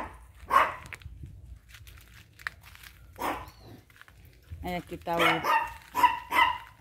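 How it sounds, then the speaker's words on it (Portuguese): A small dog barks in short bursts under a guava tree in a garden with potted plants, while someone talks nearby in Portuguese over the barking. "cachorrinho dela, bonitinho também."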